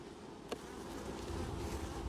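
Honeybees buzz steadily at the hive in winter, a close continuous hum with one brief sharp tick near the start.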